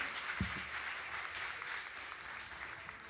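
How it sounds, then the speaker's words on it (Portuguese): A church congregation claps for Jesus during an evening service, a faint, distant wash of many hands with a brief thump near the start, continuing evenly without voices. "Você pode aplaudir forte Jesus nessa noite?"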